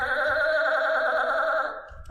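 A single sheep gives one sustained, wavering bleat, fairly close and clear, then trails off at the end.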